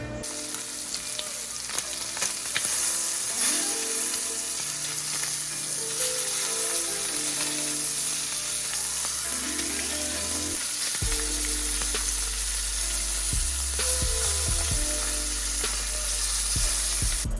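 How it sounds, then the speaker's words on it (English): Thin strips of cured, applewood-smoked mangrove snapper bacon fry in a pan, giving a loud, steady sizzle and crackle throughout, with a low hum underneath and occasional stirring noises. "now I'm gonna slice them thin and long ways so we can fry them up here in this pan"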